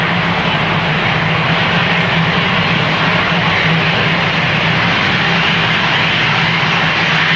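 Cargo aircraft taxiing at Manchester Airport, a loud steady roar of aircraft engines running without pause and without talking.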